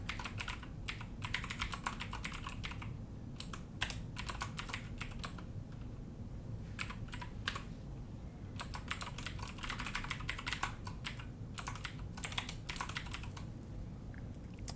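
Steady typing on a computer keyboard, close and continuous, with rapid key clicks coming in bursts and short pauses between runs.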